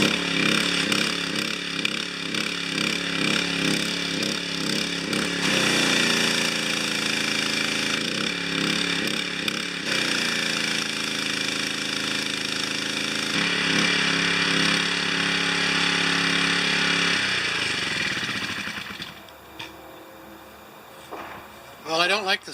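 The small engine of an old pressure washer runs loud and steady at close range while starting up. It surges audibly, rising and falling in pitch every few seconds, then dies down near the end.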